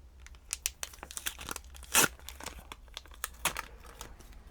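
Paper packaging being torn open and crinkled at close range, with a rapid string of small rips and rustles and one louder tear in the middle, fairly quiet overall.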